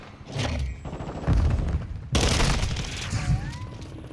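Gunfire in Call of Duty: Modern Warfare, with dense rapid bursts of close, loud shots in two strong bursts under brief speech.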